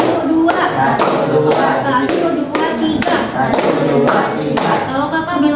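A group of children in a school counseling session clap their hands in a counting game, giving about ten firm, evenly spaced claps in a steady rhythm, close and loud, with faint voices mixed in.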